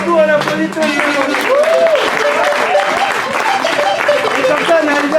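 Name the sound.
audience applause after a story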